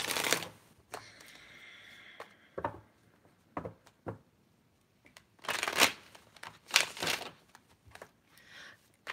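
Tarot cards are shuffled by hand in quick bursts of riffling and bridging, with crisp papery flutters separated by short pauses and soft taps as the deck is squared, close and alone without talk.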